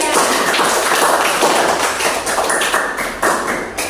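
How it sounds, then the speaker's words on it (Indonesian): Steady applause from a classroom group, dense continuous clapping at close range lasting a few seconds. "Tepuk tangan untuk kelompok 3."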